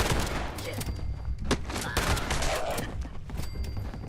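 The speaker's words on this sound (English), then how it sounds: "Scorched shooting at the ghouls." In Fallout 76, Scorched enemies shoot at ghouls some distance off; the gunfire comes as faint, scattered cracks and a few sharper pops over a constant background rumble.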